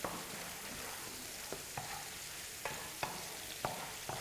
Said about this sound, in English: I'll just add my onions. And if you have garlic, definitely you can add in garlic. So I'll just give it a stir, just a light stir.